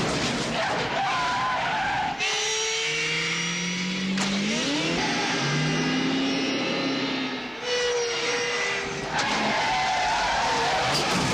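Tires skid and squeal through a film car chase from The Dead Pool, long screeching sweeps rising and falling over a roaring engine, loud and close with no talking.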